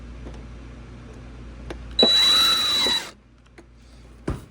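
A power drill drives a screw into sheet metal while an exhaust offset is fabricated: one loud, steady whine of about a second, then it stops and a sharp knock follows.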